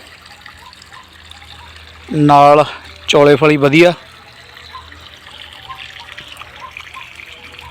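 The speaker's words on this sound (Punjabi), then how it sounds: "ਚੱਲ ਰਿਹਾ ਹੈਗਾ ਪਾਣੀ ਭਰੰਡੀਆਂ ਨੂੰ" Water trickles and gurgles steadily in the background as it irrigates an okra field, with someone speaking briefly over it partway through.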